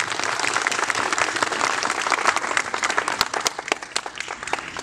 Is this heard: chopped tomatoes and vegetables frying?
no